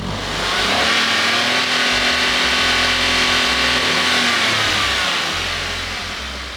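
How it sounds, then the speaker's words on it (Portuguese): A car engine is revved up and let fall back, with a steady loud mid-pitched drone that swells and eases over several seconds, recorded close and with no voices. It is run during a lambda-sensor diagnostic check. "Agora o veículo será acelerado"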